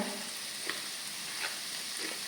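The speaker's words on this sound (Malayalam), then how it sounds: "നമുക്ക് നന്നായിട്ട് നമ്മുടെ പാവയ്ക്ക ഒന്ന് വഴറ്റിയെടുക്കണം" Bitter gourd sautés with salt in a pan for a bitter gourd and carrot pickle, a soft, steady sizzle with a few faint stirring taps and no talking.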